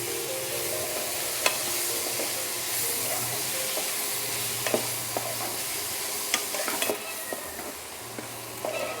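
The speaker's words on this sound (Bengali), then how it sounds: "ভালো করে এবার আবার নাড়িয়ে নেব।" Mixed fried rice ingredients with Schezwan sauce being stirred in a hot pan, a spatula scraping and tapping repeatedly over a continuous sizzle, close and moderately loud.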